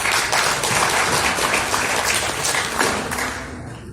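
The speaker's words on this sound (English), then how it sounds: "I think that deserves a clap" A crowd of people claps together in sustained, dense applause that stays loud throughout and only begins to thin out in the final moment.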